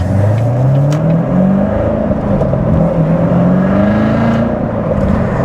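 A Chevrolet Corvette C7 Z06 with a manual gearbox roars loudly from the cabin while driving, its engine note climbing steadily through two rising revs under a constant heavy drone.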